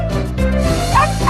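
Buddy, a tiny Yorkshire Terrier, gives high, thin yips and whimpering cries that run steadily and close by, with no one talking.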